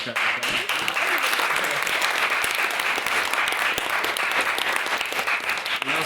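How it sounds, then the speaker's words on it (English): At a debate society, an audience gives a round of applause, a loud, continuous crackle of many hands clapping that holds steady for several seconds. "So I'd like to give another round of applause."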